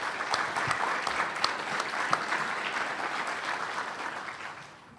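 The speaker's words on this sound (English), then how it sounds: "ask you guys to give yourselves a round of applause" Attendees at a training session give themselves a round of applause, a steady, moderately distant wash of many hands clapping that tapers off near the end.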